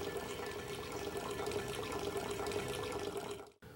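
Steady stream of water pouring into wine juice in a 7-gallon fermenter, a continuous faint splashing rush that cuts off abruptly near the end.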